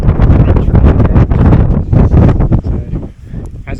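Strong wind gusting across the mountain summit of Cadair Berwyn in Wales, buffeting the microphone with loud, continuous roaring and rumbling that dips briefly near the end.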